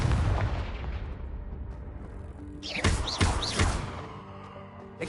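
The Confringo blasting spell from a Harry Potter game goes off as a booming explosion, with a few sharp whooshing impacts and thuds following, moderately loud over a lingering rumble.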